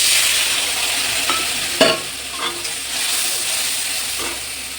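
A wet paste of turmeric, cumin and Kashmiri chilli powder mixed with water hits hot oil in a pan and sizzles with a steady hiss. A few sharp stirring scrapes and spatters stand out close by, and nobody speaks over it.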